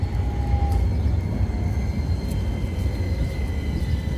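A tram in Sweden arrives with a steady low mechanical rumble and a faint high whine, continuous and fairly close, with no talking.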